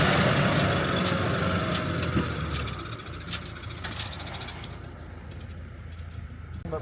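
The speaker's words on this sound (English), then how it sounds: "There's the tractor, bang on schedule" A tractor engine rumbles steadily at close range, loud at first and then easing slightly, with a broad low drone and some higher mechanical noise.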